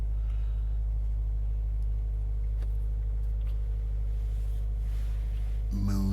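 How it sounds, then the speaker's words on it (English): A 2015 Subaru WRX idles with a steady low engine rumble that stays constant throughout, heard close and loud, and a brief extra sound near the end. "Just gonna sit here and let my car idle a bit before I go zipping around real quick"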